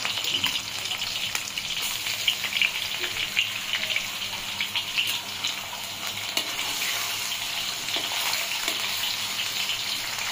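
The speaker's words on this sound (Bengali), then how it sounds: "অ্যাড করে দিচ্ছি আমার ফেভারিট ডিম।" An egg fries in a pan while homemade noodles are being made, giving a steady, fairly loud crackling sizzle that runs through the whole stretch with small pops and no talking.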